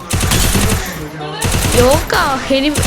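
Automatic rifle fire in a shooter video game, with recoil making the weapon hard to control: rapid, loud bursts of shots that keep rattling with brief gaps, while a voice talks over the shooting.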